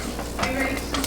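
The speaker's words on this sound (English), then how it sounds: "what you do is you stir it up" A spoon stirs and folds a sticky cinnamon roll mixture in a bowl, giving a brief, close, steady scraping swish with soft wet smacks and no talking.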